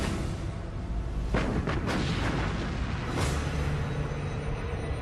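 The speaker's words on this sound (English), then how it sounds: "Bismarck opens fire." The German battleship Bismarck's main guns open fire in 1941, heard as a couple of deep booming blasts with a whooshing rush over a constant dense roar, loud and close.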